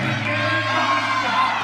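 A home crowd cheers at a college gymnastics meet, Iowa at Nebraska, a sustained roar of voices and whoops filling the arena with a commentator talking over it.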